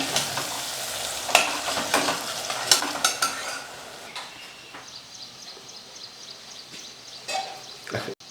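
Eggplant and ground masala sautéing in oil over a low flame, with close sizzling and repeated sharp scrapes and clinks of a spoon stirring the pan, settling into a softer hiss toward the end.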